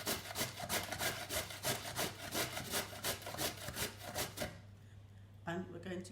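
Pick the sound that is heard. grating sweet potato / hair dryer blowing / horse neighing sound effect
grating sweet potato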